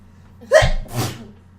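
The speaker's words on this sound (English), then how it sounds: "going to sneeze." A single sharp sneeze, a quick inhaled buildup followed by a forceful burst, close and clear with no talking.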